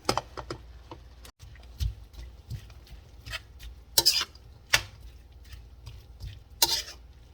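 Onion stir-frying in a pan for a Thai drunken stir-fry, with irregular sharp scrapes and clanks of a utensil against the pan over a low, steady sizzle.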